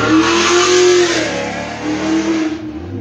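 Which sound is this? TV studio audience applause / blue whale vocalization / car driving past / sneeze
car driving past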